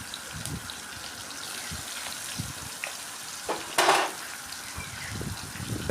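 Sliced onions hit hot oil with a bay leaf in a pan for a Bengali dish, giving a steady soft sizzle with a brief louder hiss of frying and light stirring clicks, fairly quiet and close.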